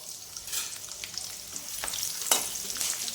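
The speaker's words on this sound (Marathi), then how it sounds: "जिरे चांगले तडतडले आहेत, आता मी त्यामध्ये लसूण टाकते" Garlic dropped into hot oil where cumin seeds are already crackling, for crispy potato slices: a close, steady sizzle with fine crackling and a couple of brief louder bursts as it is stirred.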